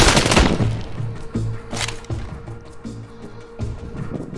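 Shotgun-style blasts in the zombie shooter Arizona Sunshine boom out loud and close, a heavy opening shot followed by a sharp second crack, then quieter thuds and clatter.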